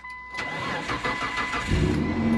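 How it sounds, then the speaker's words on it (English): A car that has sat unstarted for about a month cranks over with a rapid churning whir, then catches and settles into a low, rough idle. "it's been about a month since I've started this car."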